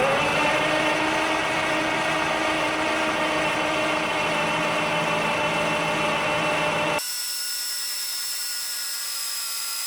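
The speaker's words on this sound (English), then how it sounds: "I'm going to start cranking on it again." Caterpillar diesel engine with its transfer pump removed being cranked by the starter without firing, a loud, steady mechanical whir for about seven seconds before cutting abruptly to a quieter background hum.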